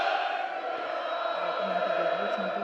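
A Sikh congregation at a religious gathering shouts the jakara response, a sustained massed roar of many voices. It holds loud and even from start to finish.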